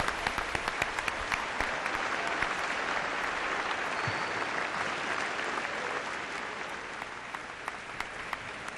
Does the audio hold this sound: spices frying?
no